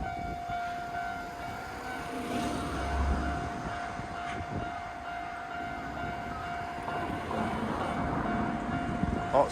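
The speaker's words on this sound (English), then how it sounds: "Train's gonna blow past us." A Hankyu Takarazuka line train rolls past near a station level crossing with the gates closing, a steady rumble and rail noise under a constant crossing-bell tone, loud and close throughout.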